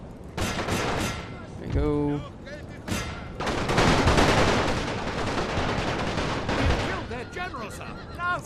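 Volleys of gunfire from units firing in The Great War, a World War I strategy game on the Romanian front, crackle in dense bursts throughout, with someone talking over parts of it.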